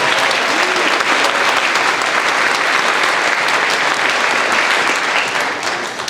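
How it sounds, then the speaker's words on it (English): Audience at a New Milford band spring concert applauds steadily and loudly for the graduating seniors of the class of 2019, a dense, sustained clapping that holds for several seconds before tapering slightly at the end. "one more round of applause, all of our seniors, the class of 2019"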